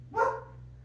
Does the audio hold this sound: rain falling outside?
no